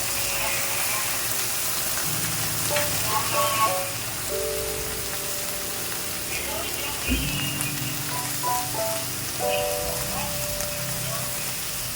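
Alamang shrimp paste frying in a pan while ginataang kinayod na santol is cooked: a dense, rain-like crackling sizzle runs throughout, with faint voices and tonal sounds in the background.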